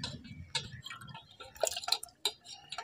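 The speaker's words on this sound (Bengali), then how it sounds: "এবার আমি পিস পিস করে আলুগুলোকে জলের মধ্যে" Potato pieces are dropped one at a time into hot water in a miniature pot, giving several small, separate plops and ticks at an uneven pace, close and faint.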